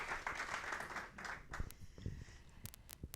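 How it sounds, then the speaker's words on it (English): Light, scattered clapping from a small audience at a women's business conference session, fading into a few sparse claps and taps near the end. "So round of applause for Kirsten and her dodgy foot"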